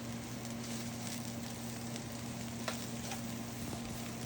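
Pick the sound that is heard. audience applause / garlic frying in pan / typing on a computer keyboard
garlic frying in pan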